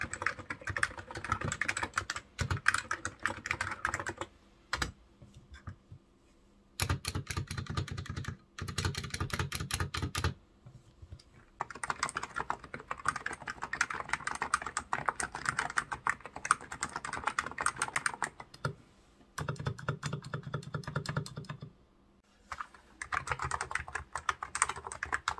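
Rapid typing on a soft, muted Topre electrostatic capacitive keyboard, keystrokes clattering in quick bursts separated by short pauses, close up with no voices.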